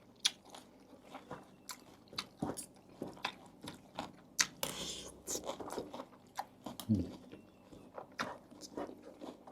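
Crisp, crunchy chewing of spicy canned fish salad right at the mouth, a steady run of sharp bites and crackly crunches with moist smacking between them.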